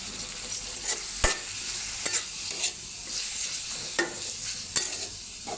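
Fish frying with salt, turmeric and chili powder crackles in a pan, a continuous sizzle punctuated by sharp spoon-on-pan stirring clacks every second or so.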